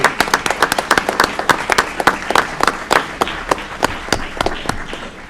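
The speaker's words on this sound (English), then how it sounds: "we can give a round of applause to all of Aurora's educators" A room of people at a city committee meeting in Aurora applauds to honor the city's educators, with dense, steady clapping from many hands running through the whole stretch at moderate loudness.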